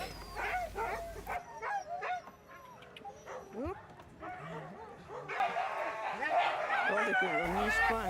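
Working huskies yip, whine and bark in a busy chorus, close and distant dogs overlapping against outdoor noise, with people talking over them.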